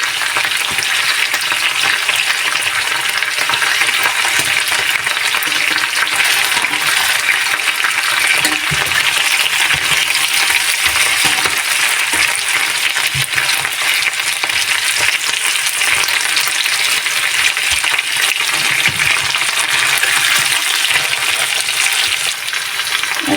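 Lamb chops fry loudly and steadily in a pan with a dense, close sizzle, broken now and then by soft knocks and shifts as the chops are flipped.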